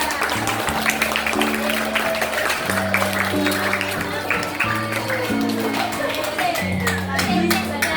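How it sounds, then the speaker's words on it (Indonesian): A classroom audience applauds a group after their micro teaching practice session, with dense, steady clapping throughout and music playing underneath. "Beri tepuk tangan yang meriah untuk kelompok Muhammadiyah."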